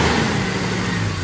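A Jeep XJ's 4.0 six-cylinder engine runs with a steady, even drone and a broad hiss, close and moderately loud, with no knocking or ticking standing out over the brief stretch.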